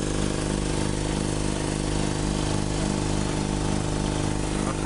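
A small air compressor with a worn-out switch runs steadily up close, its motor giving a continuous buzzing drone with a regular pulsing hum and no break across the stretch.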